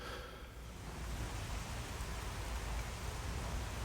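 Steady rain falls during a storm, a dense, even hiss of drops on surfaces that holds at a constant moderate level throughout with no voices.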